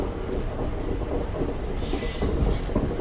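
The Pinakini Superfast Express, running between Vijayawada and MGR Chennai Central, rumbles along the rails with squealing wheels and rattling carriages, a steady mechanical din heard from on board without talk.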